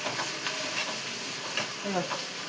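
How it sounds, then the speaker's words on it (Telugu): Ginger garlic paste fries in hot oil in a pan, a steady close sizzle and hiss broken by the scrape of stirring. "చూసారా? ఇలా వేగాలి."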